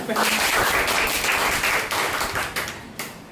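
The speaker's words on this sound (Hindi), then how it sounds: "ताली बजाओ अपने लिए" A group of people clapping for themselves in a classroom, loud dense applause running throughout with scattered louder claps near the end.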